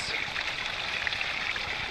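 Fresh drinking water flows from the ground on a Costa Rican ranch, a soft, steady trickle and babble heard faintly and continuously.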